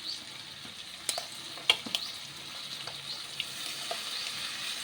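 Ginger-garlic paste sizzling in a pan while cooking potato chochori, a quiet steady fry with a few sharp clicks of a spoon against the pan.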